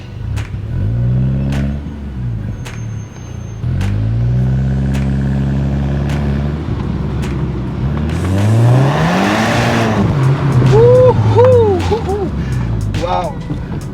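Mk6 VW Golf R pulling hard on the road, engine rising and falling through repeated loud revving sweeps and gear changes, close and powerful, with people talking over the engine midway.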